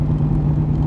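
A 1965 Shelby Cobra Backdraft with a 427 stroker engine gives a loud, steady, close low rumble, held for under a second with no talk over it.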